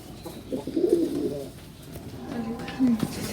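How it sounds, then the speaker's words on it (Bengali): Pigeons in a rooftop loft coo in two low, drawn-out bursts separated by a pause, soft and close against a quiet background hiss. "ভিতরে একটা কবুতরের জায়গা আছে"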